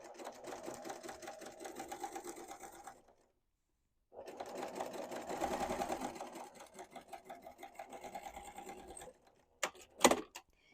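A sewing machine stitches a quilted fabric tote in steady running bursts, pausing for about a second midway and ending with a few short clicks; close and fairly loud, no talking.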